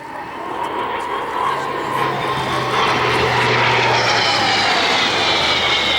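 A Hawker Sea Fury of the Royal Navy Historic Flight makes its final pass at the RAF Cosford airshow, a loud, steady propeller-engine roar that swells slightly as it sweeps by, with crowd noise beneath.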